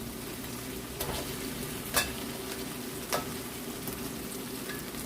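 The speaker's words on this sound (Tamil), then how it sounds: "நான் இப்போ நாங்கள் பொரிச்சு வச்சுருக்கிற நண்டை ஆட் பண்ணுவேன்." Fried crab added to a tomato masala and stirred in the pan, a steady close sizzle broken by a few sharp spatula scrapes and clinks spaced about a second apart, no talking.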